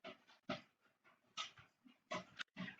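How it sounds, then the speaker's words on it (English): A dog pants rapidly and breathily nearby, in irregular bursts of quick huffs with brief pauses and a faint whimpering edge, fairly quiet and with no talking. "My goodness, my dog is loud."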